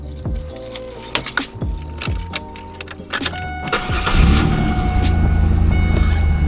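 1998 Pontiac Firebird with a V6 engine: keys jangle and click in the ignition, then the engine cranks and catches around the midpoint, settling into a loud, steady, close idle.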